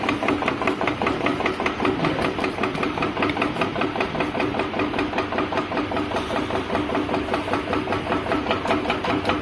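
A scrap chopper with a variable speed drive crushes scrap in a fast, evenly pulsing mechanical hammering over a steady motor hum. The sound is loud and continuous and stays constant throughout.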